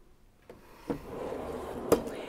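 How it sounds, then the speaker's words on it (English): A slow-closing cabinet drawer in a 2024 Tiffin Allegro Bay 38 AB motorhome glides shut with a soft thud, followed by a gentle final click as it settles closed. "these are slow closing drawers and cabinets, so all you have to do is get it within a couple inches"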